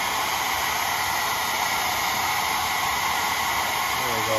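A hair dryer blowing steadily on clock movement parts during cleaning, giving a continuous close, loud whooshing hum with a high whine that stays even throughout, and a brief voice just at the end.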